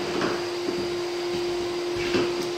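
Flex Giraffe GE5 drywall sander on its lowest speed setting, a steady moderate motor whir with a constant tonal hum and faint scraping bumps, heard alone.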